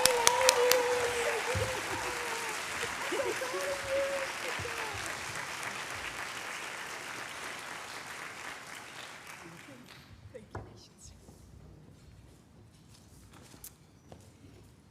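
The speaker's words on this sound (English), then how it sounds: "Please join me in applauding the winner of the 2023 Chris Carey Customer Service Award, Kiera Vani." Applause for an award winner at the University of Maryland student leadership awards starts loud with a few cheers and fades gradually over about ten seconds into scattered claps and quiet room noise.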